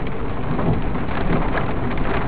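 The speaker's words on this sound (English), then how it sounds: "And as you can tell, it's a rainy day." Steady rain falls on a rainy day, a dense, even hiss of drops at constant loudness with no pauses.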